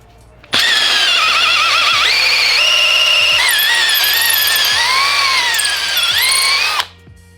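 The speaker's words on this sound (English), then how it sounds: "Now we got to drill it out to 3/8." A power drill whines loudly and steadily as it bores a dipstick tube hole out to 3/8 inch in an engine block, pitch shifting under load, running close and alone for several seconds before stopping.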